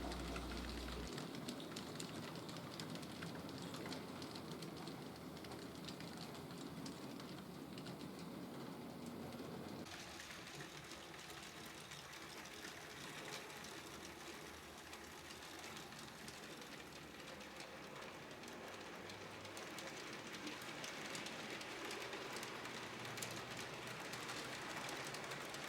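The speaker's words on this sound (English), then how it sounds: "The freight leaves Keene by crossing the wooden trestle west of town." An HOn3 narrow-gauge model freight train runs on a layout and crosses a wooden trestle, making a continuous clattering, rumbling run of wheels on track that stays steady throughout.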